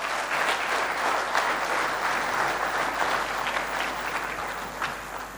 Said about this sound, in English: You have clapped